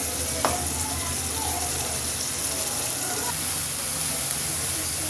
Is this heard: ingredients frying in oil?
yes